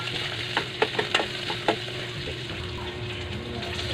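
Fish frying in a pan, a steady close sizzle with a few sharp pops and spatters in the first half, no talking.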